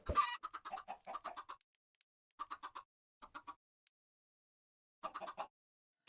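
Chickens clucking in a video game, several short bursts of close clucks in irregular clusters separated by silent gaps, with no talk.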